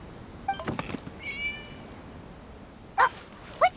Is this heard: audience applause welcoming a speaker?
no